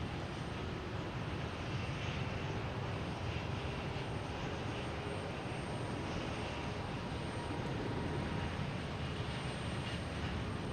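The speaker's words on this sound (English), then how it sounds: "Next to take off is an American heading to Miami in A321neo" An American Airlines Airbus A321neo bound for Miami takes off at Boston Logan Airport, its engines a steady, broad roar that holds at an even level throughout, distant and unbroken, with no voices.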